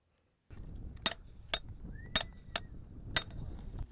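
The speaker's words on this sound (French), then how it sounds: "C'est toujours le marteau et puis burin." A hammer drives a chisel in five sharp metallic strikes at uneven intervals, each a bright ringing clink over faint background rumble.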